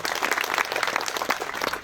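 Steady applause from a crowd, a dense patter of many hands clapping for a couple of seconds with no voices over it.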